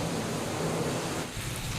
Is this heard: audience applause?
no